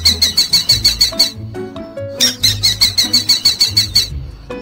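A falcon calls in loud, rapid runs of shrill, evenly spaced squealing notes, two bursts separated by a brief pause, close and alone.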